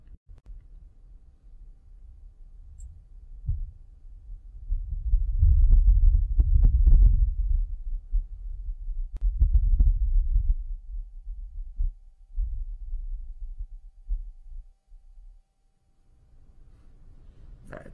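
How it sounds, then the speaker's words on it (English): Wind on Mars captured by the Perseverance rover's microphone: a low, muffled rumbling whoosh that swells and fades in slow gusts, loudest mid-way, with no talk over it. "so you can just hear what the wind would sound like on Mars"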